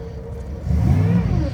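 Car engine with a weak fuel pump and low voltage sputtering at idle, then revving up into a louder, steadier rumble in the second half.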